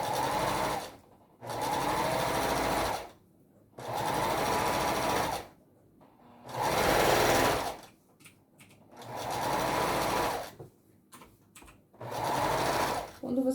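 Sewing machine stitching the body of a cloth Christmas Santa doll: five or six loud close bursts of rapid whirring stitching, each a couple of seconds long, separated by short pauses with faint handling noise.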